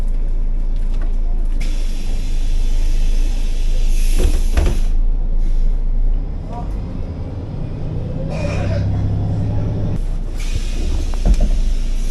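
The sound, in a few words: De Lijn bus departing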